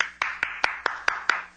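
Seven sharp hand claps in a steady, evenly spaced rhythm, close and clear against a faint low hum, performed as a radio drama sound effect.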